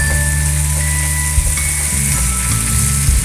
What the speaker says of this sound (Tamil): கருவேப்பிலை போட்டு கொஞ்சம் வதக்கிக்கோங்க